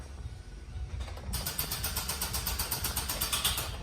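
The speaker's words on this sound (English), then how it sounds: "That noise is the starter not having the power to turn over the engine" A rapid, steady mechanical clicking from a vehicle starter failing to crank on a dead battery, rattling on under a low engine-bay hum.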